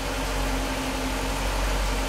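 A 2015 Jeep SRT idles on autogas (LPG) after a Prins VSI 2.0 conversion, giving a steady, even, low engine hum heard up close with no talk.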